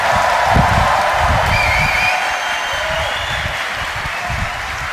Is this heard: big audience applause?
yes